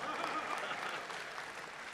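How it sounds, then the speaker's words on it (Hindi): A live audience at a Hindi comic poetry recital gives a brief, dense burst of applause, a steady wash of clapping heard at moderate distance. "इस पंक्ति में मैंने कैसी कैसी तालियां सुनी"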